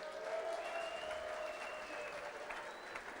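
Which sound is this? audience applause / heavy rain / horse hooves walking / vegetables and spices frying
audience applause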